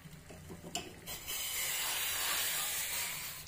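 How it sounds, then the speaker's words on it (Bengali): Hot water hits half-fried vegetables in a spiced masala, and after a few soft knocks a loud, steady steam hiss swells up and holds, with no voices. "এবার আমি একটু গরম জল দিয়ে দেবো"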